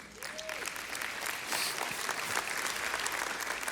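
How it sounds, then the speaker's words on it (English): A church audience applauds together, a steady wash of many hands clapping at moderate loudness that holds for several seconds without pause. "I'm really glad you clapped for that"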